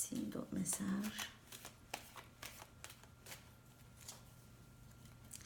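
Tarot cards shuffle in a run of crisp, close slaps and flicks after a brief spoken phrase at the start, then fall to soft handling.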